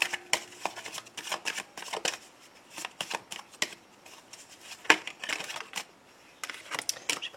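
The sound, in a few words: shuffling tarot cards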